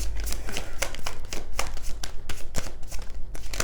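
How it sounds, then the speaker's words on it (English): A deck of tarot cards is shuffled by hand, quick papery riffles and slaps in rapid irregular bursts close by. "Last shuffle for this deck."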